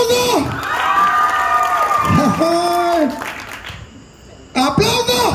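At a lively second-anniversary variety show, a crowd, many of them children, bursts into loud shouting and cheering in waves, with scattered clapping and a brief lull before the noise surges again.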